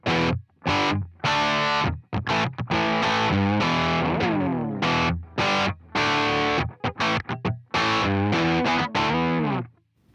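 Electric guitar run through a Walrus Audio ACS1 MK II amp simulator, playing a distorted classic rock tone in choppy chords and bends with short gaps between phrases, loud and upfront with no talking.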